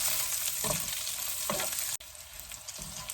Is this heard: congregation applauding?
no